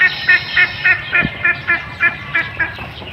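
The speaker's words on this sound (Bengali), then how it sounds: "এই যে হাঁস এসে" Ducks quack in a steady run of about ten calls while feeding in a quiet rural field setting, the calls fairly close and clear with no talking over them.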